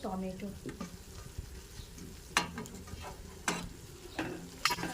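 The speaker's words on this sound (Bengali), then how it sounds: "হালকা হালকা করে হালকা আঁচে দিয়ে এইরকম নরম নরম করে পেঁয়াজ ভেজে দিতে হবে" Onions fry softly over low heat in a pan, a quiet low sizzle broken by a few sharp scrapes and taps of stirring, close by and without talk.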